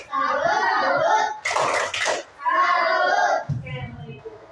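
A school class in a religious education lesson chanting and clapping together in a rhythmic group clap, with children's voices mixed in between bursts of claps.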